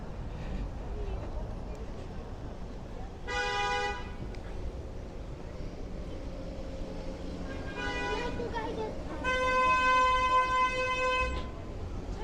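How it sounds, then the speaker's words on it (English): Car horns honk on a busy Brooklyn street in Borough Park, with several long blaring toots from different vehicles over steady traffic noise, the loudest near the end. "A lot of car horns here."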